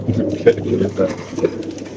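Caged racing pigeons at a pigeon sale coo in low, rolling bursts, close and fairly loud, with a voice talking over them.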